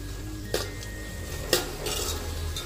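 A spoon clanks twice against a cooking pot while onion and tomato sauté with hing, salt, turmeric and garam masala for dal khichdi, under a soft, steady sizzle with no talking.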